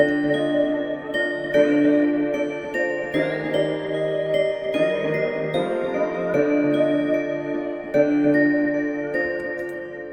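A synthesized dark melody made in FL Studio plays steadily, bell-like notes over sustained pads with occasional sweeping effects, loud and without any talking.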